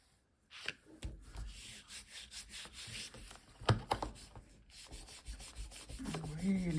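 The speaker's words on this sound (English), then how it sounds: "Really rub it and let it sit" Paper rubbed by hand over a gel print gives a close, continuous dry scraping that swells and eases in strokes.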